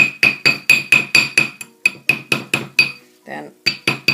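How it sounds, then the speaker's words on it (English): Sharp, ringing metallic hammer strikes on a wire ring held on a steel mandrel, about a dozen close, loud taps in a steady rhythm, with a short pause and a brief scrape before a few more blows. "all this hammering is actually going to be making your wire, your ring get a little bigger"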